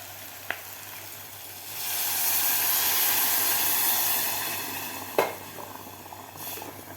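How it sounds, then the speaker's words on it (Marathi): Water goes into a hot pot of Khandeshi black-masala khichdi. A hissing, steamy rush swells for a few seconds, then fades, with two sharp clinks before and after. "आता यामध्ये घालायचं आपल्याला पाणी"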